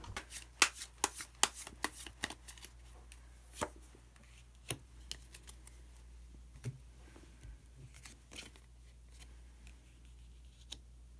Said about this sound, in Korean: 그럼 마지막으로 오쇼젠 카드 한 장 더 뽑아보도록 하겠습니다